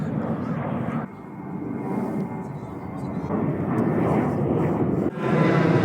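An airplane on or near the runway on Jeju Island, heard from a hillside viewpoint, gives a steady, loud, broadband engine roar that swells toward the end, with voices over it.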